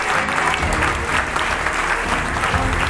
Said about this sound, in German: Einen tosenden Applaus